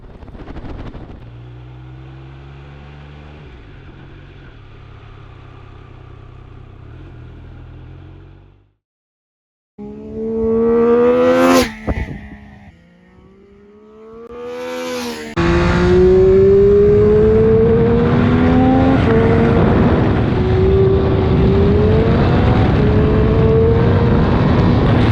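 A 2022 Triumph Speed Triple 1200 RR motorcycle on a racetrack: loud engine note rising and falling through gear changes, a brief drop-off, then sharp revving passes that build to a sustained, strained high-rpm howl close to the listener.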